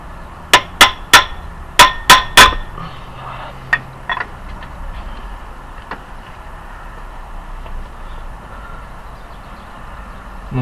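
Sharp metallic hammer taps on the alternator belt tensioner of a 1.9 TD diesel engine: a quick close series of about six hard knocks, then a few lighter taps and a quiet workshop background.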